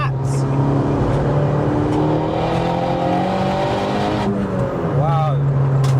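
A turbocharged 387-horsepower front-wheel-drive Vauxhall Corsa pulls hard through its gears, its loud engine note climbing steadily, dropping briefly at a shift, then rising again, close and continuous.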